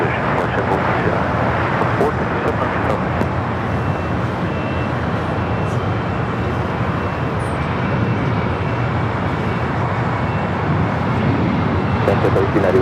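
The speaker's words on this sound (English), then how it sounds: "You're looking at Cayman Airways, the flight heading to Georgetown, flight 481, a 737 MAX 8." A Cayman Airways Boeing 737 MAX 8 jet at LAX, a steady broad engine roar holding loud and unchanging throughout, with voices talking beneath it.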